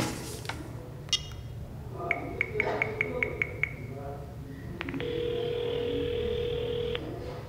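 Telephone call from a landline: a run of dialing tones, then a steady ringback tone that sounds once and goes unanswered, with faint voices and room noise underneath.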